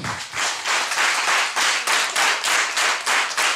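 A church congregation claps in acclaim for Jesus: loud, steady rhythmic clapping in even, repeated bursts that fill the room, with no talking over it.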